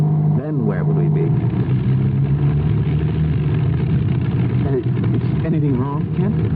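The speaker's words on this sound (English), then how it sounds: "I don't like the sound of that engine." A running engine in a radio drama, its steady mid-pitched hum droning continuously through the scene while voices speak over it.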